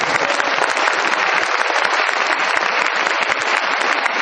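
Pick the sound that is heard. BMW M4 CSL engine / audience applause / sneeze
audience applause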